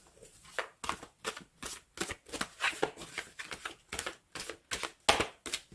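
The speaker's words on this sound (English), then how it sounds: "So let's just get some final cards." Tarot cards being shuffled and drawn for a love reading, a series of crisp riffles and slaps in irregular bursts, close and fairly quiet, with no talking over them.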